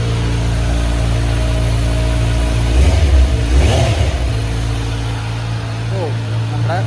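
A 2025 Kawasaki Ninja Z900 idles loud and close with a steady low exhaust rumble, then its engine is blipped into a sharp rev swell near the middle and a smaller rev toward the end.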